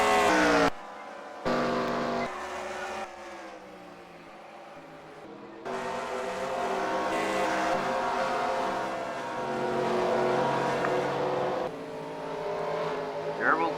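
Race cars from a Piston Cup racing video game roar past at a speedway: abrupt cuts between loud engine drones, then a sustained high revving whine as the pack of cars runs together.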